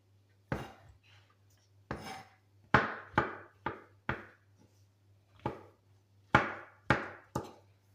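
A knife chops champignon mushrooms on a cutting board in a home kitchen, producing close, crisp clusters of knocks in irregular bursts separated by short pauses, over a faint steady hum.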